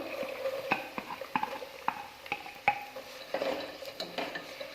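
Diced carrot being stirred into tomato uppumavu in a pan, a spoon scraping and clinking against the metal in quiet, irregular strokes with no talking.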